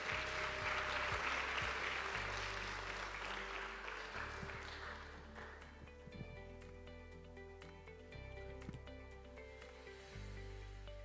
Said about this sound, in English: I think Dr. Luck needs another round of applause.